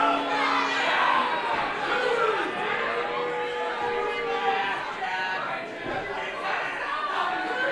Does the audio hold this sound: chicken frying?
no